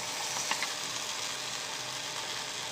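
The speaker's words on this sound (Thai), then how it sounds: "เราก็เคี่ยวไปเรื่อยๆนะครับ เคี่ยวจนพริกแกงของเราหอมสุกหอมนะครับ" Curry paste with a little coconut cream simmers and fries in a pot, giving a dense, steady sizzling hiss with faint bubbling and a few light scrapes.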